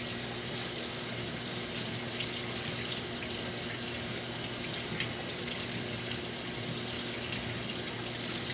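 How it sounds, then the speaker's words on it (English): Tap water runs steadily into a kitchen sink while canned chickpeas are rinsed, a continuous close splashing rush with no pauses and no voices. "I'm rinsing off my chickpeas"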